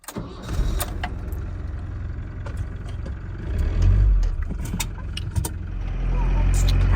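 Self-built camper van engine cranking and catching, then idling and revving as the vehicle pulls away, with a deeper rumble building near the end and people talking over it.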